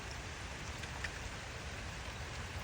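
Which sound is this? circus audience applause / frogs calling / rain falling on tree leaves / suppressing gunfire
rain falling on tree leaves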